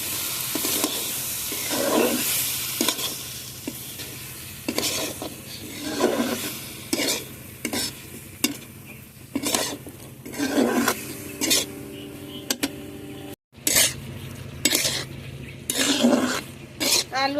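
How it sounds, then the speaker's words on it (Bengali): Potatoes and tomatoes frying together in a pan, a continuous close sizzle with repeated scraping and clinking strokes of a spatula stirring the mixture, one brief gap in the middle. "আলুর সঙ্গে টমেটোগুলো ভালোভাবে কষিয়ে নেব।"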